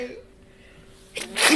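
A person sneezes once, a sharp, close burst near the end that follows a quiet stretch with a faint vocal tone at the start.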